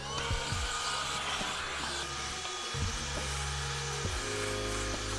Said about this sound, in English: I want to make sure my vacuum works